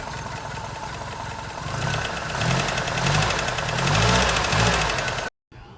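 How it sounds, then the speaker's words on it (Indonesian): A car engine, on its first day after a timing belt replacement, runs close by with a steady, slightly knocking idle that swells in intensity before cutting off abruptly near the end. "Ini adalah bunyi enjin hari pertama dipasang."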